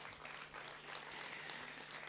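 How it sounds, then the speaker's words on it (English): Convocation audience at a university graduation ceremony applauding, a dense, even wash of many hands clapping, faint and distant, sustained throughout without talking. "Give her another big round of applause"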